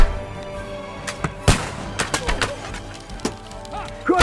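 Gunfire rings out during a battle in Kingdom Come Deliverance 2, several sharp, booming shots at uneven intervals over a busy background of shouts, birds and clatter.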